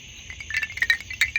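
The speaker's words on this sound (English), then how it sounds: "I moved those chimes over there." Wind chimes ringing outdoors on a late-summer night, several bright metallic tones struck irregularly over about a second, moderately close, with a faint steady insect hum in the background.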